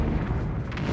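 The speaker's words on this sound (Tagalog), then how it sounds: "Sumabog ang bombang apoy sa Tokyo." A firebomb explodes over Tokyo in 1945 wartime footage, heard as a continuous deep, heavy rumbling roar that barely fades over its short span.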